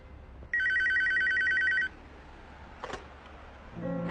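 A telephone rings once, a clear electronic trill lasting just over a second in a quiet room, followed by a soft click and a faint rustle.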